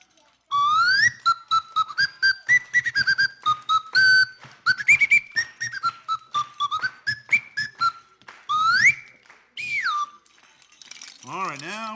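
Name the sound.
slide whistle being blown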